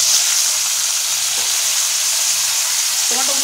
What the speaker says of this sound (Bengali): আমরা এই গরম তেলের উপরে যোগ করে দেবো প্রায় 150 গ্রাম পরিমাণ টমেটো কুচি